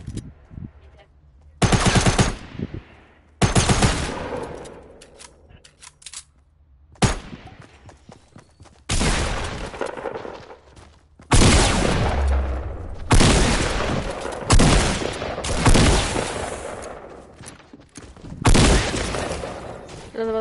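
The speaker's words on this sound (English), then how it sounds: "You're really shooting at me." Fortnite gunfire, loud bursts of rapid automatic shooting and single heavy shots arriving in clusters with short pauses between, close and dominant, with a voice talking now and then in between.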